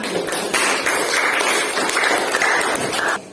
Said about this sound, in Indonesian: Tepuk tangan untuk kelompok bawaan.